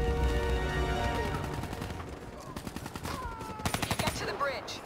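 Rapid gunfire bursts from a Call of Duty Black Ops 3 campaign battle, dense automatic fire rattling over music and voices, with loud close volleys stacking up toward the end.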